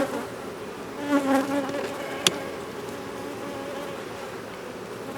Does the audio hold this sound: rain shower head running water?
no